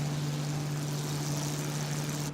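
Propeller engine of a Bf-108 Taifun in Microsoft Flight Simulator, a steady droning hum at constant revs, loud and continuous without talk.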